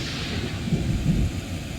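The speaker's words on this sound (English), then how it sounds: "But there's a heavy thunderstorm." A heavy thunderstorm in the video game Chaos on Deponia rumbles low and steadily, a deep rolling thunder with a faint hiss of rain, heard without speech.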